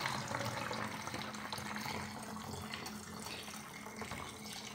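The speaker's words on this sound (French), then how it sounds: "vous allez remplir avec quasiment l'eau chaude à ras-bord" Hot tap water runs steadily and fairly loudly into a 2-litre bottle, filling it nearly to the brim with a continuous gushing flow and no talk.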